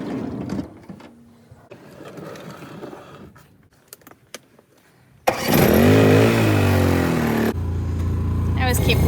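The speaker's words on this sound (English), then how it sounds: "I'm gonna get my generator fired up, get my air compressor going" A generator and an air compressor in a mobile auto detailing van starting up, a sudden loud engine roar that settles into a steady running drone after a stretch of quieter talk and handling noise.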